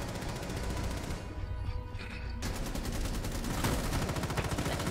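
Rapid automatic gunfire rattles in dense bursts during a Rainbow Six Siege match, with a short lull midway before the loud, steady volleys resume.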